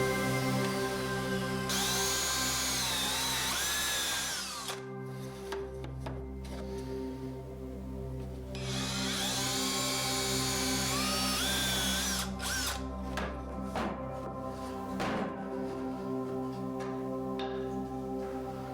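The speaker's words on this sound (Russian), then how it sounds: "Креплю эту планку на 2 самореза, перед этим, разумеется, прижав струбциной." A power drill drives two screws through a plywood cleat into the shelf, giving two long rising whines with short pauses and clicks between them, close and loud.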